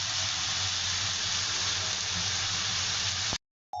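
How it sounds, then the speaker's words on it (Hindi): Onion sizzling and frying with ginger and garlic in hot oil, a steady, loud, close hiss that runs unbroken and then cuts off abruptly near the end. "अब हम इसमें डालेंगे अदरक लहसुन और मजीद इसको भूनेंगे"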